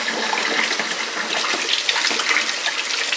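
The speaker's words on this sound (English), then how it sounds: "I'm just gonna run mine under some water" Running tap water pours steadily over a paintbrush as it is rinsed clean after a bee art project, a continuous close splashing gush with no talking.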